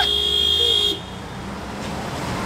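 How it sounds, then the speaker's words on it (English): Car horns honk in Los Angeles street traffic, a sustained loud tone over a rumbling roadway that cuts off abruptly after about a second, leaving engine and traffic noise. "Are they honking at us?"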